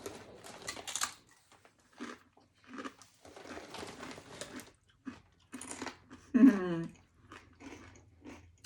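Close chewing of homemade salsa with tortilla chips as it's tasted, soft crunchy bites in short irregular bursts with pauses in between, plus a brief hum of approval near the end.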